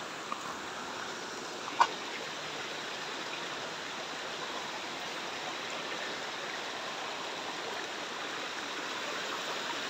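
Mountain river stream flowing along a riverbank on a volcano slope: a steady broadband rush of water, even and continuous, with a faint brief click early on and no talk.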